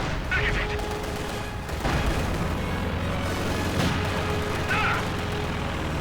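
Continuous gunfire and explosions from a 1v1 strategy video game battle roll on without pause, dense crackling bursts with heavy low booms underneath and a few sharper cracks standing out.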